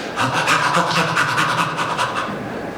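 Quick, rhythmic staccato panting, short breaths in and out in a steady chopping series, as a person's voice imitates chimpanzee play breathing.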